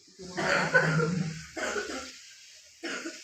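Three bursts of harsh coughing, a long first fit followed by two shorter ones, close and fairly loud with pauses between.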